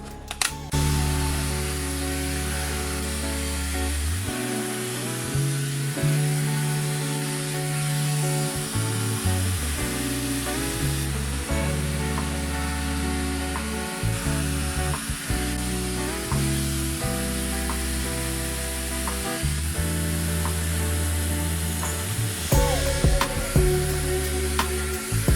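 A TYMO Air Excel hot styling brush with a paddle brush dries hair. Its airflow makes a continuous, loud, close whoosh with a steady motor whine that runs unbroken throughout, with no talking.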